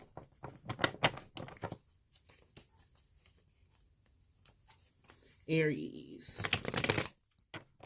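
Tarot cards riffle and flick in quick, dense bursts as they are shuffled, close and crisp, with a single spoken word in the middle.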